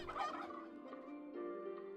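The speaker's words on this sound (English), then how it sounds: "It is making turkey noises." A roast turkey in the video game Jazzpunk gobbles in a rapid, warbling run of calls, loud and close, with no talking over it.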